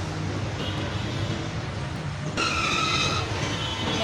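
A metro train rumbles steadily with a broad rushing roar and faint high wheel squeal, growing a little louder partway through, heard from aboard or beside the train.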